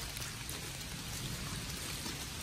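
Rain falls steadily on a hillside forest in Đồng Nai, a dense, even patter and hiss of drops on leaves and ground that stays constant throughout, with no voices.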